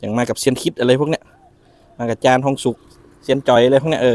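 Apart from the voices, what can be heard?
No everyday noise stands out behind the speech.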